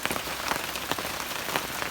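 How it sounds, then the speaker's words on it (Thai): Morning rain falls steadily on a surface in a rural Thai setting, a soft continuous patter with scattered louder drops, fairly faint and heard on its own. "เช้าฝนก็ตกอีกแล้วนะ"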